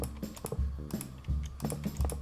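Repeated computer mouse clicks, quick and close, in several short clusters against a quiet room, with no talk.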